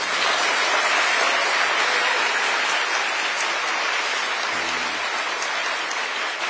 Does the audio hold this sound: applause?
yes